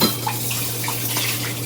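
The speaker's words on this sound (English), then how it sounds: "Rinse this off. I need to rinse this a little better." Running tap water splashes over a stand mixer part being rinsed in a kitchen sink, a steady close hiss with a low hum beneath and no talking.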